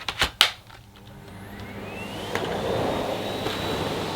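A Dyson Ball Animal Multifloor vacuum cleaner runs on its minimum setting, a soft, steady whooshing hum that settles in after a few light clicks and carries on evenly.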